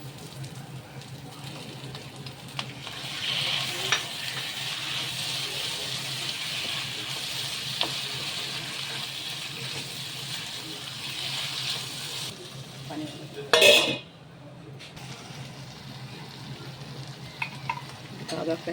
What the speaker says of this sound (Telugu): ఇందులో ఇప్పుడు ఆల్రెడీ ఉడికించుకున్న బోటీని వేసుకొని ఫ్రై చేసుకోవాలి.